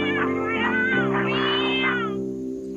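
A cat meows over and over in drawn-out, rising and falling cries, loud and close, over a steady musical drone from a Québécois French dub of a puppet show.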